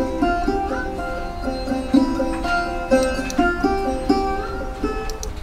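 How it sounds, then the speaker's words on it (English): A Middle Eastern–style bass loop from GarageBand's world genre library plays alone, with steady layered tones and repeating plucked notes in an even rhythm at moderate loudness. "I wanted to use a loop that sounded Middle Eastern"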